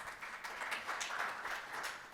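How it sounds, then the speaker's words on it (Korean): Applause from an audience at a Korean foundation's annual report meeting as the executive committee chair is welcomed, a faint, even patter of clapping sustained throughout without talk. "박수로 맞이해 주십시오."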